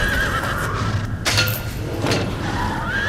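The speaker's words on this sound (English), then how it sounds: "The horse reared up with a frantic neigh." A horse neighs frantically in a fear-filled nightmare scene, a loud, shrill whinny rising and falling over a steady low rumble, with brief bursts of noise breaking through near the middle.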